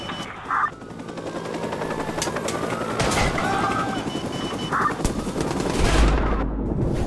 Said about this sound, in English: I should not have shot that chopper.